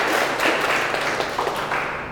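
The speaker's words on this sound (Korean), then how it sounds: "박수로 맞이해 주시기 바랍니다." Applause from an audience at a formal ceremony welcoming a guest, a dense burst of many hands clapping at close range that fades slightly over two seconds.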